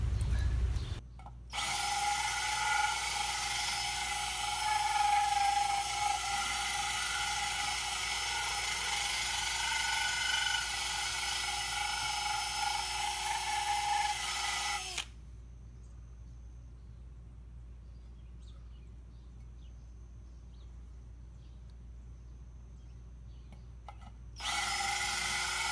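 A power drill bores into a bonsai pot or root mass during transplanting, a loud steady whine running for about fourteen seconds, stopping, then briefly restarting near the end.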